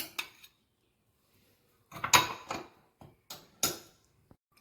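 Spoon clinking and scraping in a bowl while mango sago dessert with soaked sago and chia seeds is stirred; a brief knock, then a cluster of sharp, close clinks and a few scattered taps with quiet gaps.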